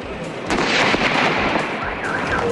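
A seized Plapla firecracker goes off on a mannequin's hand at a police camp in Quezon City. It makes one sharp, loud blast that fades into a rough, noisy tail.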